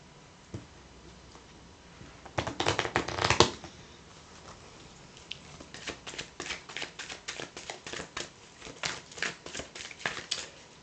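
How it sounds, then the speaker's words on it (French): A deck of cards being shuffled at a tabletop tarot reading: a dense riffle burst early on, then a long run of repeated soft flicking and slapping strokes in an even rhythm, fairly quiet and close. "Alors, je vais bien mélanger mes cartes."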